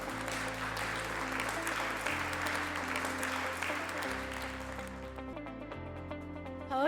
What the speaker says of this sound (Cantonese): 請大家咧俾熱烈嘅掌聲啊